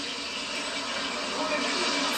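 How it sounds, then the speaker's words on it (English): Boondi batter of Bengal gram made for laddus deep-fries in vats of boiling ghee, giving a continuous, even sizzling hiss that stays steady and fairly loud throughout. "Sizzling deep-fried fragments called bundis emerge."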